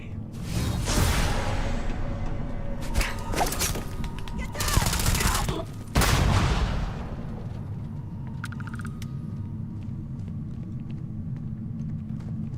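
Video game firefight with sustained bursts of gunfire and a loud grenade blast, followed by a sharper second explosion, with booming rumble and whooshes throughout, all close and loud.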